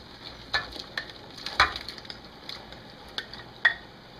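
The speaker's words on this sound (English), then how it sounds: "we're just going to take and add our northern chunks in here" Northern pike chunks go into a pot of boiling sugar water, heard as a low bubbling hiss with a few distinct clinks and splashes scattered across the moment.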